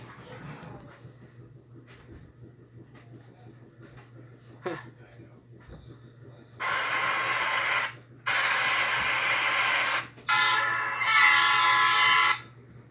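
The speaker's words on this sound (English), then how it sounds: "We have a train going by. Right now." A train horn blows in three loud, sustained blasts separated by short gaps, following a quieter stretch of low rumble and faint background noise.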